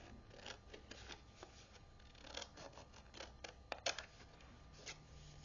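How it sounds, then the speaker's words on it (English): Paper for a photo folio is trimmed with a series of faint, crisp snips and rustles, spaced irregularly over a quiet background. "I'm going to go ahead and trim some more off"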